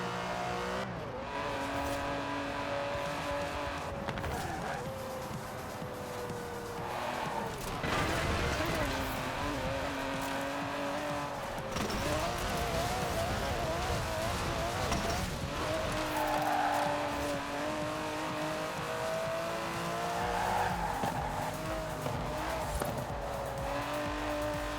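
An Aston Martin DB11 drives in Forza Horizon 4, its engine droning and revving through gear changes with tire squeal and skids, a narrating voice running over it throughout.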